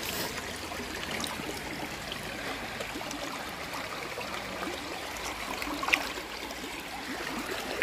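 Shallow river water runs steadily over the bed, a continuous close trickling and babbling with small gurgles, holding an even level throughout with one brief sharper splash near the end and no voices.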